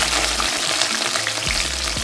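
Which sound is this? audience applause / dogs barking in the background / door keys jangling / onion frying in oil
onion frying in oil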